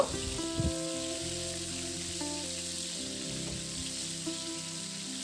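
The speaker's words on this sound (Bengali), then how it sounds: "এবার ওই গরম তেলের মধ্যে লবণ আর হলুদ মাখানো ঝিঙেটাকে দিয়ে ছেড়ে দিয়ে এবার লব ঝিঙাটাকে খুব ভালো করে একটু ভেজে নেব" Ridge gourd coated in salt and turmeric sizzles steadily in hot mustard oil, a constant close crackling hiss with soft music running underneath.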